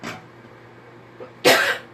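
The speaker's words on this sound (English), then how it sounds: "I wasn't coughing all day today." A person close to the microphone coughs, a short faint cough at the start and a louder, harsher one near the end, over a quiet indoor hum.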